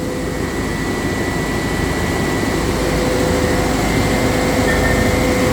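An ice plant machine making large fishing ice blocks runs with a loud, steady drone and a constant hum from start to finish, with no voices.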